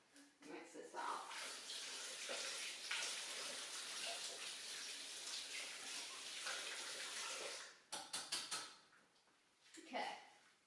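Tap water runs steadily while something is rinsed in a kitchen sink during pie making, a continuous rush that cuts off near the end, with a few brief splashes and clatters after.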